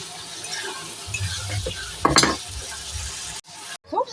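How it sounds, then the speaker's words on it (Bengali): Onion and shrimp fry in a pan before spices go in, giving a continuous low sizzle with stirring, a brief clatter of a utensil against the pan midway, and a short sharp noise near the end. "আর একটু ভাজবো আমি পেঁয়াজটা আর চিংড়ি মাছটা"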